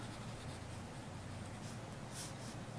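A Jinhao 250 fountain pen with a 1.1 stub nib writing on paper, a faint, steady scratching that runs throughout with no talk.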